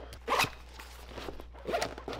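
A zipper on a Tarion Pro camera backpack with orange zipper handles is pulled in two quick close strokes, the first louder, with soft handling noise between.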